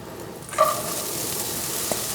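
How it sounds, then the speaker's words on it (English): Chopped onion hits hot olive oil in a pan and starts sizzling, with a sharp burst as it lands followed by a steady, fairly quiet frying hiss. "And you can hear and you can see the sizzle."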